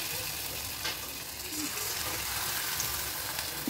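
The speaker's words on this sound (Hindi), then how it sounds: "चलिए अब मैं डालती हूँ पकौड़ी और आप सबको दिखाती हूँ ये देखिए" Cabbage pakoras fry in hot oil with a dense, steady crackling sizzle throughout, close and fairly loud, with a few faint clinks.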